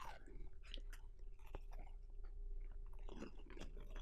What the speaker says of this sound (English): Some people don't like the sound of chewing.